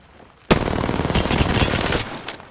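A sudden burst of rapid automatic gunfire in the game PUBG begins abruptly and keeps rattling loudly for about a second and a half, then trails off into scattered shots, with no talking.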